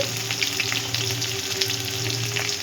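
Onions frying in oil with cumin and mustard seeds for a potato curry give a steady, close, dense sizzle with faint crackles, no voices over it.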